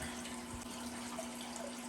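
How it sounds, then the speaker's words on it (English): Tap water runs into a container to rinse aquarium plants, a steady faint hissing stream with a low hum underneath. "Add clean water in it."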